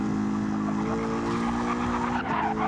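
A V8 Supercar in Gran Turismo 7 at Tokyo over-rotates, and a loud, sustained tire squeal whines over the constant engine drone, swelling and breaking up near the end.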